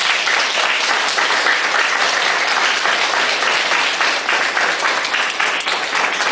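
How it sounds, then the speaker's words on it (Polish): Loud, dense applause from a crowd at an art exhibition opening, many hands clapping evenly and continuously up close for several seconds without talk. "Brawa tak, żeby cały świat słyszał."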